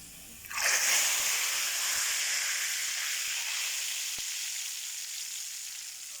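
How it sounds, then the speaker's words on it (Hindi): Garlic and cumin hit hot oil for a dal tadka with a sudden loud sizzle that then hisses steadily and slowly fades, close up and alone without talk. "तो ये देखें मैं अब दाल को तड़का लगाने लगा हूँ।"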